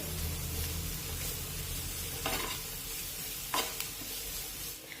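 Onion frying in a pan and stirred with a spoon: a soft continuous sizzle under low background hum, broken by two or three brief scraping strokes of the spoon.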